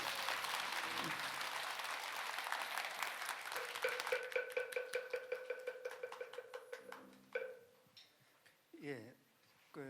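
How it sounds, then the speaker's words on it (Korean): An audience applauds at a Buddhist dharma talk, with dense clapping at first that thins into scattered, rhythmic single claps before dying away. "여러분 큰 박수 부탁드리겠습니다."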